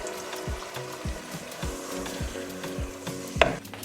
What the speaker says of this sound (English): I will stir gently, and there goes in my already chopped pepper